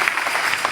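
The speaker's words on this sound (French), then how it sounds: "Il faut vous applaudir" Brief, dense audience applause fills the hall at a provincial church committee gathering in Kinshasa, a steady wash of many hands clapping with no pauses.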